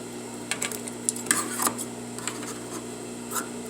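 Scissors snip and rub through excess fabric bias binding at close range, with a few brief, light cutting scrapes over a quiet background.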